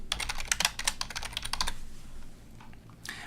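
Rapid clicking keystrokes on a computer keyboard patter in a quick run for about a second and a half, then fade to a near-quiet pause before a few final taps, close and clear.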